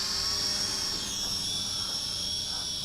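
An XK X300 FPV quadcopter drone flies low over sand, giving a continuous high-pitched propeller whine and buzz that stays loud and steady throughout, with no speech.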